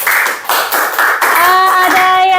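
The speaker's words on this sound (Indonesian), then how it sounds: "Beri tepuk tangan untuk kelompok 2." Classmates clap for a student group after its presentation in an Indonesian teacher-certification class, a dense burst of hand claps that pauses briefly and resumes, with tonal voices or whoops rising over the later clapping.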